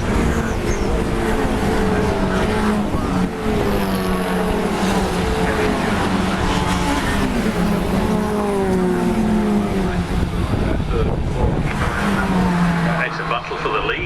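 Several race cars at Cadwell Park run nose to tail down the main straight during a Tricolore Trophy race, their engines droning loud and continuous with shifting pitch, under steady commentary.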